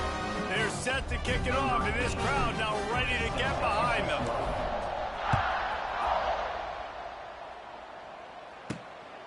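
A virtual stadium crowd in College Football 26 roars and chants ahead of a kickoff, dense overlapping voices swelling loudly for several seconds before thinning into a broad, steady wash, with a brief sharp knock near the end.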